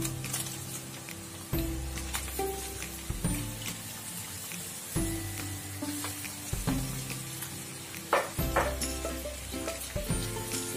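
Pork for estofado sizzles and fries in a pan, a steady crackle broken by repeated stirring scrapes and clanks, with no talking over it.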